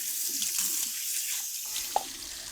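Running tap water rinsing carrots in a kitchen sink: a steady hiss of water flows throughout, with light splashes and a small clink near the end, fairly faint and with no voices.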